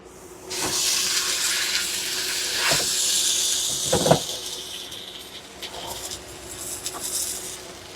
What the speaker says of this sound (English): And then we'll sear it.